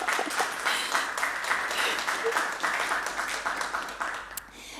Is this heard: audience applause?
yes